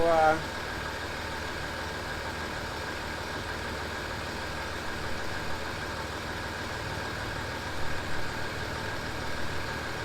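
A Land Rover Discovery 3 air suspension compressor runs in a steady, even drone throughout, with a brief louder start and faint speech over it.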